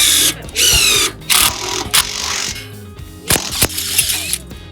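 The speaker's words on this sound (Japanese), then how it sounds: "これ鉄鋼ドリルですから" A standard steel drill bit for ordinary iron, run in an impact driver at a tool trade show, bores into stainless steel in loud bursts of harsh grinding whine with ratcheting, broken by short pauses and clatter.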